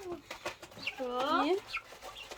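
Hen-like clucking and a drawn-out squawk among other bird calls, fairly close, with occasional background voices.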